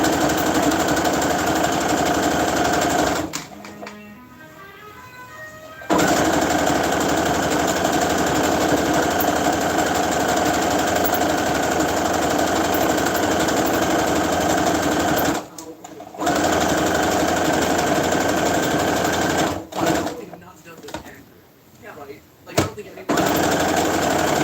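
A sewing machine stitching a fabric leg runs loud and close in long continuous bursts, pausing a few times, with a person talking over it.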